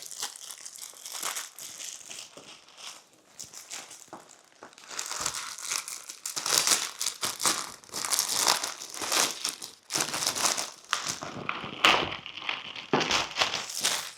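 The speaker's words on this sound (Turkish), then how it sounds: "Şimdi kutumuzu açmaya başlıyoruz." Crinkling and tearing of plastic wrap and packaging as a 512 GB iPhone 17 Pro Max box is unwrapped and opened, close and fairly loud, with bursts of crackling that grow busier midway through.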